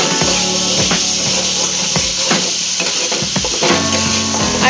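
Spice paste for a fish curry sizzles loudly in a kadai as it is stirred, with repeated scraping strokes over a constant hiss, close up and with no talking.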